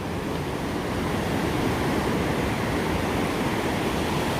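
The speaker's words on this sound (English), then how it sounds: "some nice little waves happening" Small ocean waves breaking on a beach in the morning, a steady, even wash of surf noise filling the whole stretch without distinct individual crashes, fairly loud and close, with no voices.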